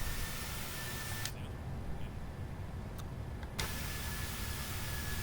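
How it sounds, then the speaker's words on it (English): Landing gear of a PMDG 737-700 retracting in Microsoft Flight Simulator 2020, a muffled whirring hum and rumble under steady cabin noise, with a brief thump at the start and another as the gear locks up. "We're gonna bring up the landing gear here."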